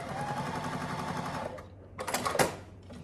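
A sewing machine stitches a Tilda quilt piece in place, a dense steady whir for about a second and a half, then a pause and a brief second burst of stitching.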